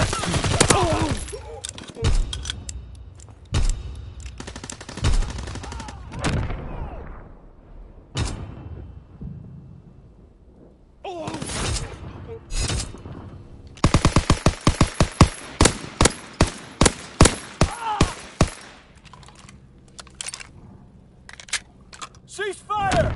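Bursts of rapid automatic gunfire and single shots from a war video game on PS4 ring out in loud clusters, including a long volley of sharp evenly spaced shots midway, with voices talking between the bursts.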